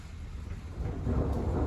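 Thunder rumbles low and continuous during a mountain storm in Kosciuszko National Park, a deep rolling swell that builds slightly over a couple of seconds with no voices.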